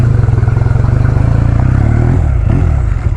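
A small motorcycle engine running steadily up close during a ride, a loud continuous throbbing drone with a slight dip in pitch partway through, no voices.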